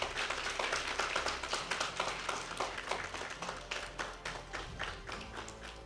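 Audience applause at a national women's day awards ceremony, a steady wash of many hands clapping with distinct sharp claps standing out, fairly loud and sustained throughout with no voices.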